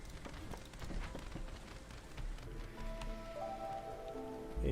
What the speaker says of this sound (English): A drizzle season.